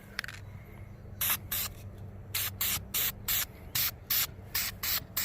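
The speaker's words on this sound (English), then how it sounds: "we're gonna go ahead and start spraying this other one" Short bursts from an aerosol can of VHT flameproof primer rated to 2000 Fahrenheit, dusted lightly onto the front brake caliper of a 2004 GSXR 1000 motorcycle, about nine close hisses in an uneven rhythm.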